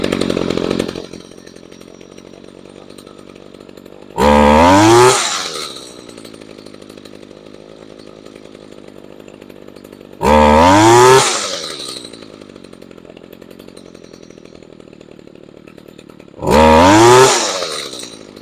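A two-stroke engine with a freshly tuned carburetor idling steadily, then revving sharply three times as the throttle trigger is pulled, each rise climbing quickly and dropping back to idle.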